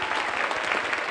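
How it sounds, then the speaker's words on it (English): A dense round of applause from the audience at a debate event, steady, even clapping that fills the whole short moment. "Give them a round of applause"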